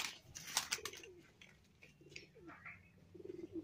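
Jiria Madrasi pigeons cooing in short, soft bursts against quiet background noise, with a few faint rustles and clicks nearby.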